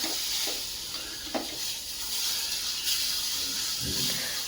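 Mango pulp stirred into ghee-roasted semolina for mango halwa in a hot pan, giving a soft steady sizzle and hiss with occasional scraping stirs up close.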